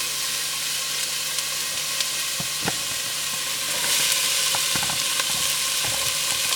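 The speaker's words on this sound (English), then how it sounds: "Now that the oil is hot, we are going to put all the vegetables" Vegetables drop into hot oil for a fish stew and fry with a loud, steady close sizzle, with scattered crackles and pops throughout and no talking.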